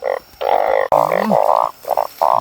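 Loud, close narrow-mouthed frog croaks in rapid bursts, a dense chorus of buzzing calls with short pauses between them, on a mountain at night.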